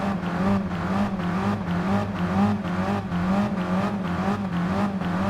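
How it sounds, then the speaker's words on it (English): A classic Mini Cooper engine in Gran Turismo Sport revs steadily at the start of a one-make race, a continuous buzzing drone with wavering pitch that rises and falls gently, close and alone. "Just gonna have to keep revving up until waiting for the green light."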